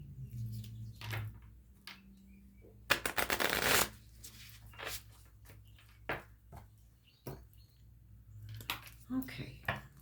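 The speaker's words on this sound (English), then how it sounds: "Better give it one more shuffle" A Divine Celestial Tarot deck is shuffled by hand: one loud, close riffling burst lasting under a second, surrounded by soft card-handling taps and rustles in a quiet room.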